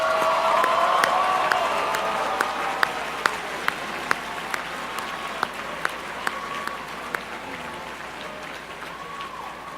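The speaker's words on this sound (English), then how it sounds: "Let's give them another round of applause." An audience at a national finals awards ceremony applauds teachers, producing a dense wash of clapping with a few sharp, distinct claps standing out near the microphone, gradually thinning toward the end.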